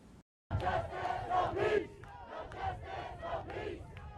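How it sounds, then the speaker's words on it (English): Protesters chant in unison at a march in downtown Amarillo, a loud crowd of voices rising and falling in rhythmic shouted phrases that run nearly continuously after a brief silent gap at the start. "This is the sound of protesters in downtown Amarillo."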